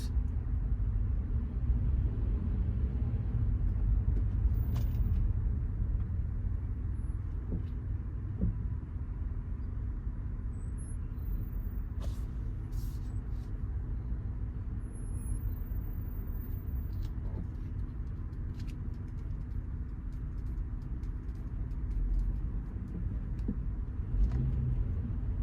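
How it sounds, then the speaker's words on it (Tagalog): Road traffic on Halifax Road, Nova Scotia rumbles continuously for the whole stretch, a steady low wash of passing cars at moderate distance with faint ticks and no clear talk. "Traffic na naman."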